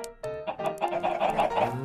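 Chickens clucking in the Minecraft video game, several short game-sound clucks following one another in a quick, uneven run, fairly close and clear with no talking over them.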